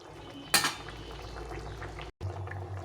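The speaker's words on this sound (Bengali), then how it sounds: "ঝোলটা ফুটে গেছে" Curry broth boiling in a pot, a steady bubbling simmer throughout, with a sharp metallic clink of utensils near the start and a brief dropout before the bubbling resumes.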